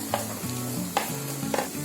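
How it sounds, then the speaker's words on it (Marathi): Green beans and mixed vegetables frying in oil, a steady close sizzle with periodic scraping stirs of the pan. "थोडेसे फ्राय करून घ्यायचे आपल्याला"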